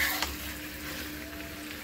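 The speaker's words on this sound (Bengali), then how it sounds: "এখানে চিকেন কষা মোটামুটি হয়ে গেছে, আলু টালু দিয়ে একদম চিকেন কষা" Chicken cooks with potatoes and vegetables in a pan, a steady close sizzle with faint stirring scrapes, alone and brief.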